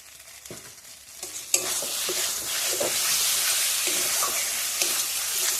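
Powdered spice masala with tomato and salt for a Bengali chicken curry is stirred and fried in hot oil, a bright sustained sizzle swelling after a quiet start, with scraping stir strokes close by and no talk.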